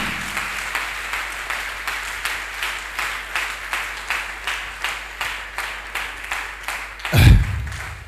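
A church congregation claps in a steady rhythm during a worship service, sharp even beats repeating about twice a second, with a loud dull thump near the end.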